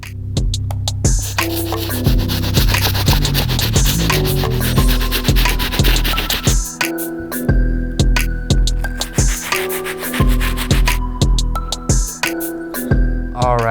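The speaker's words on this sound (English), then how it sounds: "I'm gonna still use the stiff bristle brush." A stiff bristle brush scrubs the rubber soles of trashed white Vans sneakers, a steady close rubbing and scraping that runs continuously, turning into a series of distinct back-and-forth strokes in the second half.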